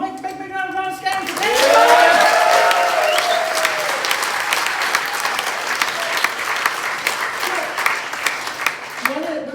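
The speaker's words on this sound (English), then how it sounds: "big round of applause, guys!" A May Day rally crowd in Edinburgh bursts into applause and cheering, a loud swell of dense clapping that holds steady then thins out, with a voice speaking at the start.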